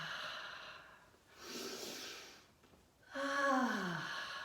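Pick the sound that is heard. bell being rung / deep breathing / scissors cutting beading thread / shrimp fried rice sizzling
deep breathing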